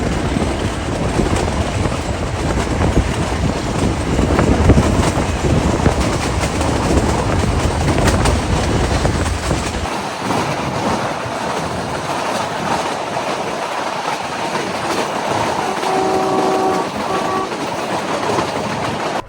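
A meter gauge passenger train runs through Indian countryside with steady rolling rumble and rhythmic wheel clatter, loud and close throughout, the low rumble easing off in the second half while the running noise continues.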